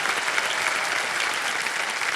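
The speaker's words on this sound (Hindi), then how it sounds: "जोरदार तालियां साक्षी के लिए।" Studio audience on the quiz show KBC applauding contestant Sakshi, a dense, steady wash of clapping that holds at full strength for the whole stretch.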